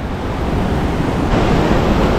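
Sea waves wash steadily onto the coast at Colombo, Sri Lanka, a loud, continuous roar of surf mixed with wind buffeting the microphone.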